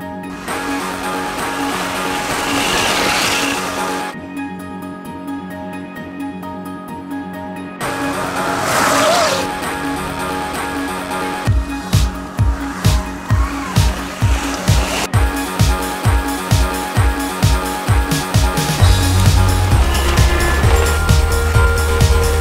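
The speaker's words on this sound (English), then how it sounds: "the only way to truly test these boards is to take them out into the real world" An electric skateboard, open belt drive or spur gear drive, rides over mud and dirt trails outdoors, with a steady motor whine and rumble, then a run of rapid rhythmic thumps toward the end.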